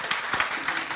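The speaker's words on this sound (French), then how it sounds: "Je vais vous demander de faire un tonnerre d'applaudissements pour accueillir" Audience applause welcoming a rap artist at a live concert event, a steady wash of clapping through the full second with no pauses.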